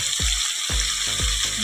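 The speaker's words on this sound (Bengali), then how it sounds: "এবার ভালো করে কষিয়ে নেবো বন্ধুরা, যতক্ষণ না তেল ছাড়ে ততক্ষণ খুব ভালো করে কষাবো।" Cauliflower, potato and rohu fish curry sizzles steadily in hot oil, with a constant frying hiss broken by three dull scraping strokes of a spatula.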